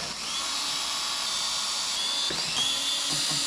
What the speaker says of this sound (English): I like to use a drill with a clutch